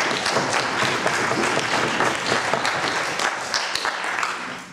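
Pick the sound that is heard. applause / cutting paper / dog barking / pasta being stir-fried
applause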